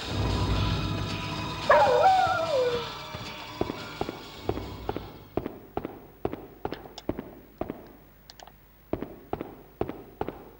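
Dog barking in the survival horror game Haunting Ground on PS2, a run of sharp, evenly spaced yaps in the second half, with a wavering whine-like cry near the start over low ambient music.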